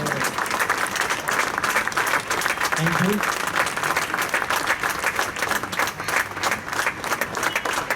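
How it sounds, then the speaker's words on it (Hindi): A standing audience at a felicitation event in Mumbai applauds for a full stretch, a continuous close wash of many clapping hands, with a voice speaking briefly partway through. "इनके लिए 1 मिनट के लिए खड़े होकर हम तालियां बजाएंगे"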